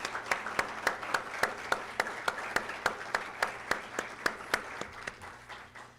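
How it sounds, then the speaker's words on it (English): Sparse, rhythmic applause for nursing graduates at a university pinning ceremony, with individual claps spaced evenly like a small group or single pair of hands, moderately faint and steady throughout. "Let's please give them a round of applause."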